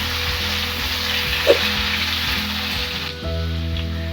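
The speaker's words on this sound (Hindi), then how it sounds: "इसलिए बटर में अच्छे से हम फ्राई कर लेंगे" Vegetables, potatoes among them, fry in butter in a pan for pav bhaji, giving a steady, close sizzle that runs through the whole stretch alongside a faint tonal background.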